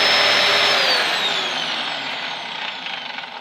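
A Dyson DC04 vacuum cleaner roars steadily at close range as it sucks up loose debris, its high whine gradually dropping in pitch and loudness while bits rattle through.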